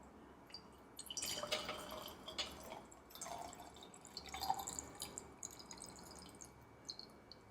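Filtered water pouring into a glass propagation bottle holding a Monstera deliciosa cutting, with splashy trickles and drips that come in short bursts and pauses, close and fairly quiet.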